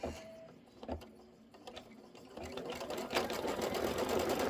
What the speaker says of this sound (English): So what it's doing while we're going to be doing this over here is it's just going to be stitching